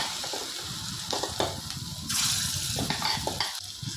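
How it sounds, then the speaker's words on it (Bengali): Green plantain kofta balls fry in hot oil with a soft, steady sizzle, broken by a few clinks and scrapes of stirring in the pan. "এবার বাকিটা সেমভাবে আমরা ভেজে নেব।"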